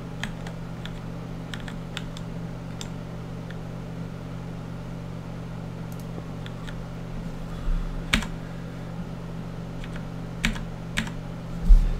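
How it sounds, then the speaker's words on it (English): Computer keyboard keys struck in scattered, irregular taps, a few in quick pairs, fairly faint over a steady low electronic hum. "So the keys you can hear me hitting there"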